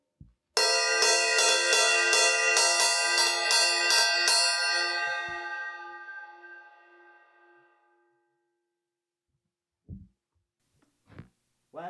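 A clear, bell-like cymbal ping struck on the bell repeatedly in quick taps, then a pure ringing tone that slowly fades; a few faint knocks follow.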